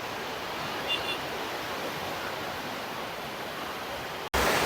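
Sea surf at high tide along the Malvan coast in Konkan, near a fish auction, makes a steady broadband wash of waves that holds loud and even throughout, with a brief dropout and a louder burst near the end.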